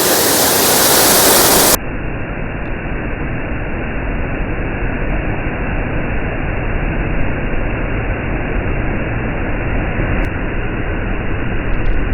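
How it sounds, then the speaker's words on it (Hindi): The Jonha waterfall near Ranchi, Jharkhand, makes a constant, dense roar of rushing water that stays loud and unbroken, with no speech over it. "रांची से 45 किलोमीटर की दूरी पर स्थित इस जोन्हा वाटरफॉल में आइए"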